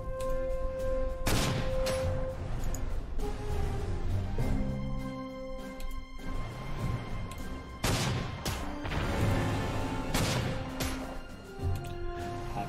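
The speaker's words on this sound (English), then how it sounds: "Go ahead and slam that artillery so it doesn't do anything." Artillery and gunfire in the World War II strategy game Panzer Corps 2 strike as a series of heavy, sharp blasts spaced a second or two apart, loud and close, each with a short ringing tail.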